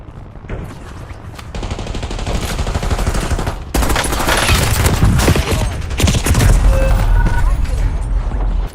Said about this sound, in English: Look at those shots he's hitting.